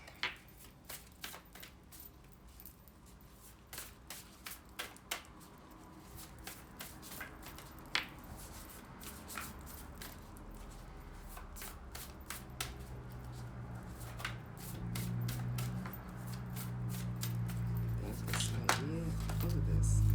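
Tarot cards shuffled by hand in a series of quick, crisp riffles and taps, fairly close, with a low rumbling background that grows louder toward the end.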